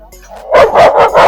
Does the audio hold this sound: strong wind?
no